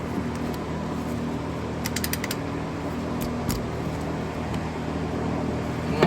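On a 5th-gen Toyota 4Runner leveling kit install, a ratchet tightens bolts in a few short clicking runs over a steady background hum, with no one speaking.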